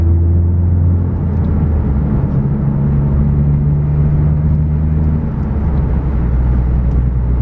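VW Golf GTI driving, a loud steady engine drone with low rumbling tones that shift slightly in pitch as the car moves, heard from inside with no voices.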